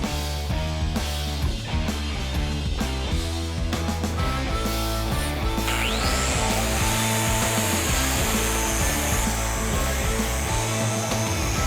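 A handheld angle grinder runs with a vacuum dust hose loosely laid on top, giving a loud, continuous mechanical whine with grinding and rumbling, steady throughout.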